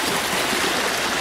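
Creek water streams and burbles steadily over rocks during an outdoor walk with a dog, a close, continuous rushing wash with no talk.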